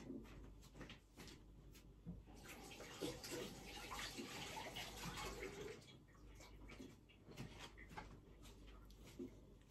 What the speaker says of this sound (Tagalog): Sandali lang po at maghugas lang po ako ng kamay